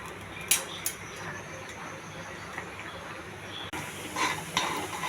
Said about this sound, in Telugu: ఉడుకుతుందండి ఉప్మా, బాగా ఉడకాలి కొంచెం.